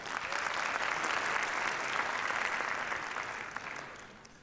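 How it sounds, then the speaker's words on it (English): A crowd at an IELTS gala training event applauding the IDP team, an even burst of clapping that holds steady and then tapers off near the end. "Let's give a round of applause to the IDP team"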